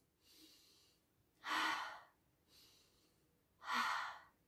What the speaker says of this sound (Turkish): Şimdi hep birlikte burnumuzdan nefes alıp ağzımızdan veriyoruz.